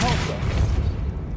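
Depulso force spell in Hogwarts Legacy strikes with a short loud booming thud and brief whoosh, heavy low rumble fading over about a second.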